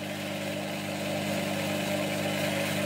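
Record Power DML250 wood lathe fitted with a speed variator, its motor running with a steady, loud electric hum and whine that builds slightly, continuous throughout with no talk.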